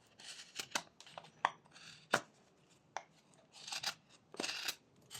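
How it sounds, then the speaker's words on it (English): A knife whittles wood with rough cuts and push cuts, making faint, irregular scraping and snicking strokes, about a dozen short cuts separated by quiet gaps. "Then I'm moving on to rough cuts and push cuts."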